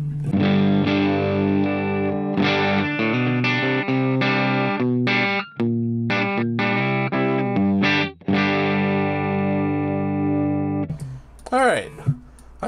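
Electric guitar played through a Line 6 Helix on a clean tone, sustained chords and single notes ringing loud and close with steady dynamics; a short burst of voice near the end.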